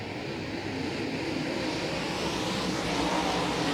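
DIRTcar UMP Modified race cars roar around the Volusia Speedway Park dirt track at the start of a feature race, a dense, continuous engine drone filling the air at steady loudness.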